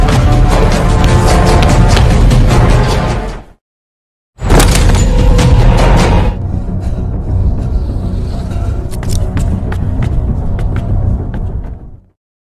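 Gunshots and impacts in an action film scene, loud dense bursts of bangs and crashes, a sudden gap of silence, then further sharp shots over a lighter rumbling background.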